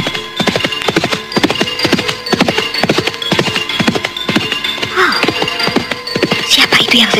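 Horse hooves clip-clopping as a horse pulls a cart, a loud, close, steady rhythmic trot of sharp knocks with brief vocal sounds mixed in near the end.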